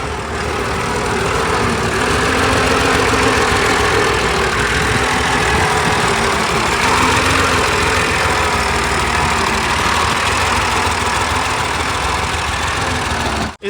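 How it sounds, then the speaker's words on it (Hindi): A tractor engine pulling a soil delivery trolley idles with a loud, steady low rumble close by, unbroken for the whole stretch. "चलो भाई, दूसरी ट्राली आ गई है।"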